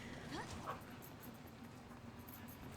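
Dogs play in the background of a home, giving faint whimpers and yips that sit low behind a steady room hum.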